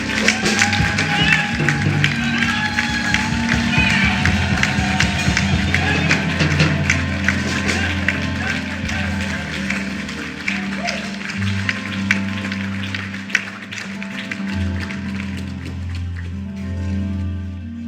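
A church congregation welcomes the patriarch with sustained applause and acclaim, a dense wash of clapping and voices lasting the whole stretch, joined by low music beneath.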